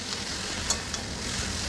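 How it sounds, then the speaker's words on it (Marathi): Onion, tomato and garlic fry in hot oil with a dense, steady sizzle. A couple of faint stirring clinks sound close by, and no one speaks. "ते पण आता तेलामध्ये भाजून घेणार आहे।"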